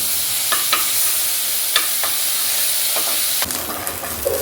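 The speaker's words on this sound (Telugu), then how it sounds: "నూరించుకున్న ఈ గ్రేవీ ఇది పచ్చి వాసన పోయేంత వరకు ఫ్రై చేసుకుందాం" Ground masala gravy for butter paneer curry frying in a pan, a bright continuous hiss and sizzle with a few light scraping stirs, loud and close throughout.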